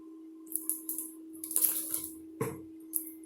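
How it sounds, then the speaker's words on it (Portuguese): Cooking oil poured into a glass of water gives short splashy trickles and drips in uneven bursts, close and fairly quiet over a steady low hum, with no talk. "Estou espejando o óleo de cozinha no copo com água."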